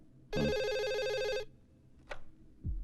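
A telephone rings once with a loud electronic trill lasting about a second, followed by brief clicks and handling noise.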